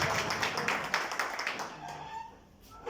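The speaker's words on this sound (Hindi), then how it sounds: "जोरदार तालियों के बीच।" Audience applause at a Holi get-together and fan club anniversary celebration, fairly faint and diffuse, dense clapping that thins out after about two seconds.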